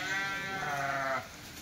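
Kathewadi sheep bleat in a single drawn-out, wavering call, close and fairly loud during rainy weather, ending abruptly as a quieter background hum continues.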